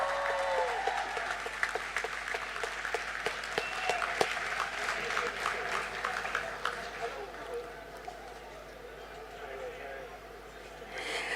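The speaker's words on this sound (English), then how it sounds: "let's give them a round of applause" An audience at a closing ceremony of a regional sports games claps in sustained applause, dense rapid clapping that fades slightly toward the end, with a voice over a loudspeaker mixed in.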